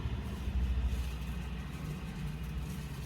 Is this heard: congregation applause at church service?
no